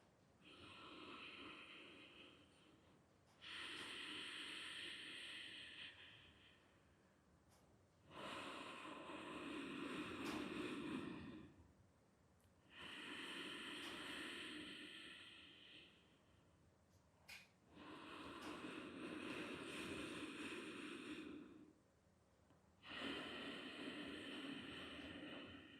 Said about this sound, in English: You might start to realize why it's called ocean breathing. That whisper in your throat sounds the same as the waves ebbing and flowing